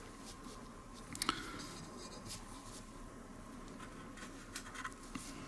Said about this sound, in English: And here I'm just kind of drawing with a slightly moistened tip.